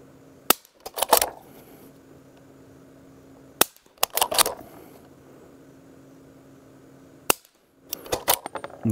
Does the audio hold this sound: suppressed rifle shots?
yes